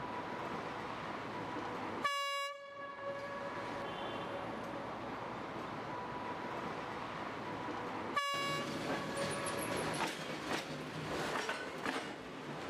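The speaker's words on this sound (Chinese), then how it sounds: "每天都要驾驶老式电机车，往返穿行于大孤山铁矿和鞍钢厂区之间" An old electric locomotive hauls ore on the railway between the Dagushan iron mine and the Anshan steelworks, with two loud horn blasts over a steady background of running rail noise.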